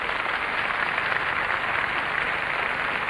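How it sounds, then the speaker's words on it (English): Steady applause from the Eurovision Song Contest 1978 audience in Paris greets Norway's conductor, a dense, even wash of clapping at moderate distance, with no voices over it. "Burst of applause for him"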